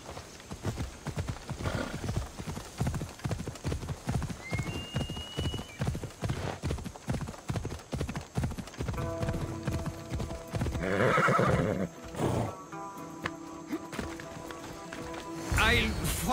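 Horse hooves clip-clop at a steady gallop through a fight in Assassin's Creed Odyssey, with loud whinnies breaking in midway and near the end, over game music, clashing and voices.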